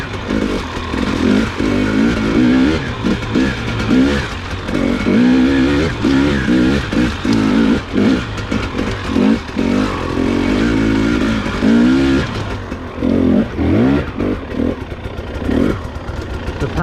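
A 2021 Husqvarna TX300i two-stroke dirt bike ridden on cold trails, its engine buzzing and revving steadily throughout with rising and falling throttle bursts, loud and close.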